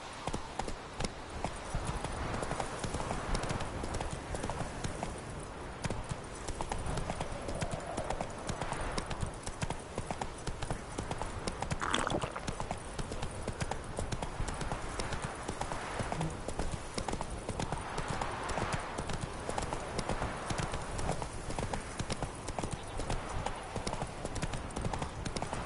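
Horse hooves clip-clop steadily in The Witcher 3 video game, a continuous loud rhythmic trotting across the whole stretch with ambient game sound beneath.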